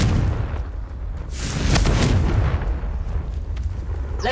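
A Confringo spell explosion in Hogwarts Legacy sounds as a loud, close boom that swells midway and lingers as a broad rumbling burst, followed by a sharp crack near the end.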